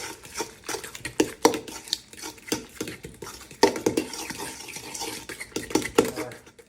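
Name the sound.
stirring pimento cheese mixture with drained pimentos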